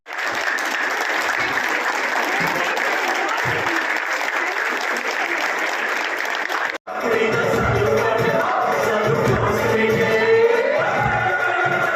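Audience at a Vaas Foundation honorary doctorate ceremony claps loudly and continuously; the dense applause breaks briefly, then resumes fuller with crowd murmur and a few cheers mixed in.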